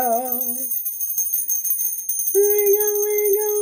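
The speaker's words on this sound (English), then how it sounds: "Let's throw some bells." Bright metallic bell tones ring out in two separate strikes, a short one at the start and a longer sustained one later, clear and close over a quiet background.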